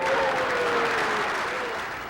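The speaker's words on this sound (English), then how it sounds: "there was applause all around" Applause from Senate leaders and onlookers at the July signing of the Y2K bill, Bill 775, a steady wash of clapping throughout that fades slightly at the end.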